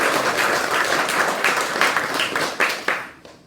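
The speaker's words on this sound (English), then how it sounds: "Let's give her a round of applause." Audience giving a round of applause at an ISKCON gathering, a loud burst of clapping from a room full of people that gradually thins into a few scattered claps before dying away.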